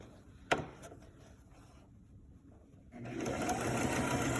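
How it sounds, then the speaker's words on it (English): A sewing machine back stitches a shirt collar, starting with a sharp click and a quiet pause, then breaking into a steady, rapid stitching hum for the last second and a half. "And now we need to start with back stitch."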